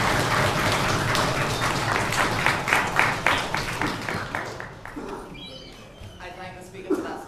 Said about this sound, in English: We would like to offer a round of applause for all speakers in an excellent way.